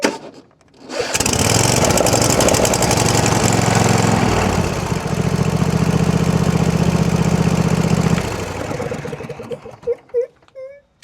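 Engine of a Kawasaki Mule utility vehicle, choked to start, cranks and catches, then runs loud and steady up close for several seconds before dropping and sputtering down near the end.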